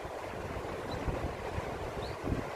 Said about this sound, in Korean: 강물 소리가 요란하게 흘러갑니다.